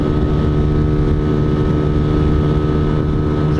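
A Honda Fan 125 motorcycle carrying a passenger runs at full throttle downhill, heard from the rider's seat as a steady, loud engine drone buried in heavy wind rush with no change in pitch.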